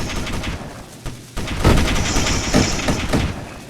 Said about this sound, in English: I wanna see if those shots actually land on your ship